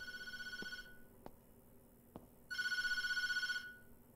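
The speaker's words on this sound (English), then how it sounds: "Let's answer the phone." An old-fashioned telephone bell rings in a horror video game, two loud bursts of rapid trilling about two seconds apart, with a few faint knocks in the quiet gap between.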